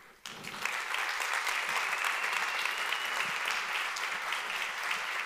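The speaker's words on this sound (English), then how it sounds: "Big round of applause for Chris." A conference audience breaks into applause after a talk on microservices, a sudden burst of dense clapping that swells quickly and holds steady and loud throughout.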